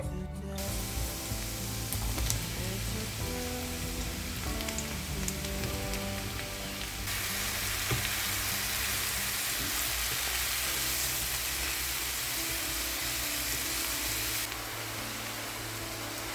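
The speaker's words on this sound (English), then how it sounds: "Then add the mushrooms and sauté for 5 minutes until lightly browned" Mushrooms and onion sautéing in a pan, a steady, even sizzle and crackle that runs on without pause and carries no voice over it.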